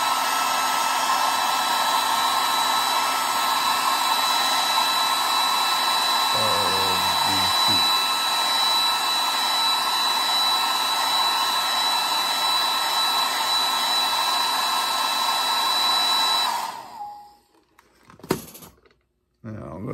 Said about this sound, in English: I'm going to re-dry these so I can handle them